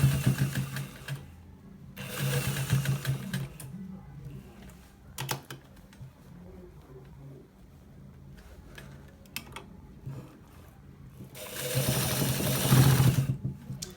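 A sewing machine stitches a designer shirt in two loud, rapid whirring bursts, one near the start and a longer one at the end, separated by quieter clicks and handling of fabric.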